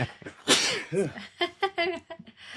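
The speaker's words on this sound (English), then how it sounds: "got to sneeze" A single sharp sneeze bursts out, followed by a short laugh and some talking nearby.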